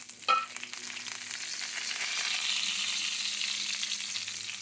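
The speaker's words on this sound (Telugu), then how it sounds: "ఇప్పుడు వేపుడు పోపు దినుసులు వేసాను" Spices and curry leaves hit hot oil with a sharp initial crackle, then settle into a steady, loud sizzle and spatter that continues throughout.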